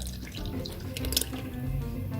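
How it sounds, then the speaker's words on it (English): Preserved egg and milk poured into a well in the center of flour for crepe batter, a steady liquid splashing and gurgling pour lasting a couple of seconds, close up and continuous. "Our wonderful preserved egg and milk. Pour it in like that."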